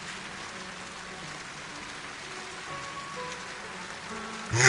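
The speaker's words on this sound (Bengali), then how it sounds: "বৃষ্টির মধ্যে কাঠ কাটছে" Rain falls steadily at night in a Bengali ghost cartoon, a soft even patter with no voices, swelling into a sudden loud burst in the last moment.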